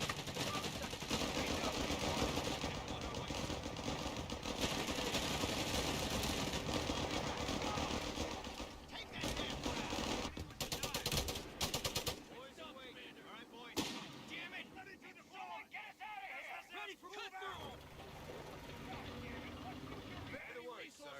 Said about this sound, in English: What is that flak?